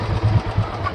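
A Royal Enfield Bullet 350 motorcycle engine idles close by, a low uneven thumping beat lasting about a second with no talk.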